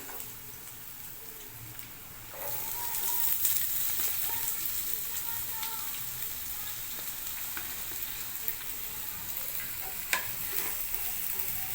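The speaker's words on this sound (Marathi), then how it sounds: "कांद्याला पण आपण थोडा परतून घेऊया एकदम ब्राऊन नाही बनवायचा" Onions sauté in oil with chili and garlic for a Koli-style octopus khimma. After a quiet start, a steady close sizzle begins and continues evenly, with a few faint ticks and no talk.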